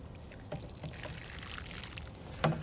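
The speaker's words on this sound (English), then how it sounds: "water these beans in with some water-soluble fertilizer" Water mixed with water-soluble fertilizer pouring onto freshly transplanted bean plants in a garden bed, a soft steady trickle and splash with a brief louder gush near the end.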